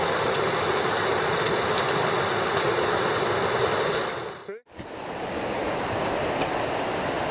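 River water rushing steadily below a jungle campsite, a dense, continuous broadband roar that holds constant, broken by one brief dip before resuming.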